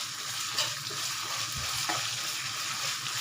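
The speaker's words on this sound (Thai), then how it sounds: "ผัดกับน้ำมัน" Curry paste stir-fried in hot oil for a Thai-Lao coconut and fermented fish noodle curry, giving a steady close sizzle with a few scrapes of stirring and no talk.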